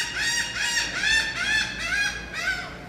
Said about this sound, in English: They actually let these birds hang out here.